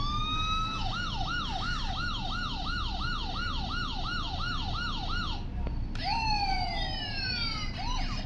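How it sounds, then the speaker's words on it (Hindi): A toy musical police car plays an electronic siren that rises and falls quickly and repeatedly, then switches to a slower sweeping wail. The sound is steady and fairly loud against constant background noise. "ये एक पुलिस कार है, ये देखें, ये ऐसे चलती है, ऐसे ना, मैं आपको चला कर दिखाता हूँ। ये म्यूज़िकल कार है।"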